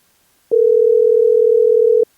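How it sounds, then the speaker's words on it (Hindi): A telephone call tone plays while someone phones for help: one steady, loud electronic tone lasting about a second and a half, then silence, with no voices. "उनके पास फोन मिला के देखती हूँ।"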